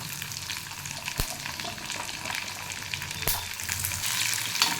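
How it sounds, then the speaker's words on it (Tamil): Small onions and garlic sauté in hot oil for a Tamil vatha kuzhambu, giving a steady close sizzle with a couple of sharp spatula clicks and no talking. "போட்டு நல்லா வதக்கிக்கோங்க"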